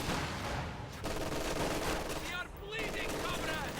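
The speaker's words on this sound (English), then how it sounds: "MG42 will suppress them and will move to avoid the flames" Rapid MG42 machine-gun fire crackles through a Company of Heroes-style wartime battle as conscripts come under suppression, bursts dense and continuous over a busy mix of game noise and background music, with a voice talking across it.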